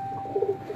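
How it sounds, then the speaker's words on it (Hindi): A low-flying breed of pigeon on a rooftop gives a brief, soft coo of a few quick low notes, close by over a faint background hum. "इनके पास बड़ी नई किस्म के लो फ्लाइंग कबूतर है"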